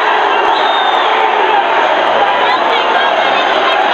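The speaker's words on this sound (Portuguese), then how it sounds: "E a torcida inflama mais ainda" At a semifinal football match of the Copa Morena 2018 between Coxim and Inter Flórida, the crowd in the stands cheers in a loud, continuous roar with no break.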